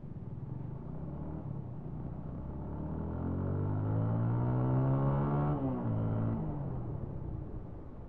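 A Kawasaki Ninja motorcycle riding right after its low-pressure tyre was inflated: a steady engine drone that rises in pitch and loudness midway, peaks, then eases back down, with no talking.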